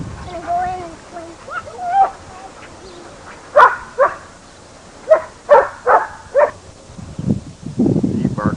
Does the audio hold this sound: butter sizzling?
no